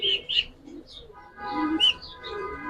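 Giribaz colouring pigeons coo and chirp close by in a short burst of calls, with soft chirps and brief tonal coos separated by quiet gaps.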